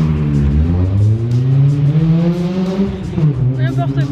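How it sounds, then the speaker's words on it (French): A car drives fast past a park, its engine a loud rising and falling drone that dominates the whole stretch, with people talking faintly underneath. "Une voiture qui fait ce bruit."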